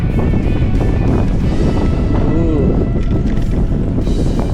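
Wind rushes across the microphone during a trail ride on a morning outing, a loud, constant roaring buffet that fills the whole clip.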